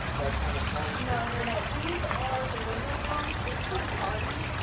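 Water flows steadily along a channel with a continuous pouring, trickling rush. Faint voices murmur in the background throughout.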